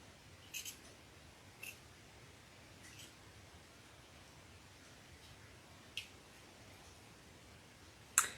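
Small, not very sharp scissors snip faintly at a few scattered moments, with short crisp cuts separated by long quiet gaps and one slightly louder snip at the end.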